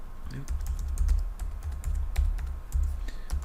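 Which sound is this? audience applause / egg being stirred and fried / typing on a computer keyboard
typing on a computer keyboard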